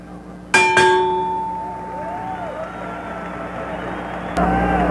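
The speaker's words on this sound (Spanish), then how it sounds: "Y aquí viene la campana terminando el segundo round." Boxing ring bell sounding to end the second round of a title fight, a sharp metallic clang ringing out and decaying, then struck again near the end, amid arena crowd noise.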